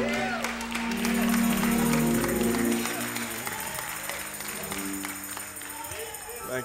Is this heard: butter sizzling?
no